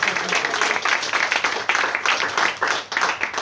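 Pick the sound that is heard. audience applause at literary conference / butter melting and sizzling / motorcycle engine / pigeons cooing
audience applause at literary conference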